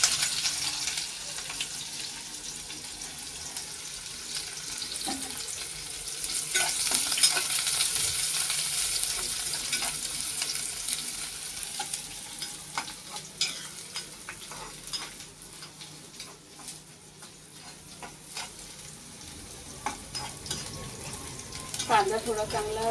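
Chopped onion hisses and sizzles in hot oil as it is stirred in a pan for a cashew curry, a steady broadband crackle with occasional scraping, a soft voice faintly in the background.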